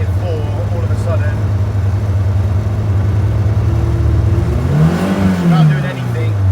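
A Renault Twingo R2 rally car engine holds a loud, steady droning rev close by, then climbs sharply in a rising surge near the end.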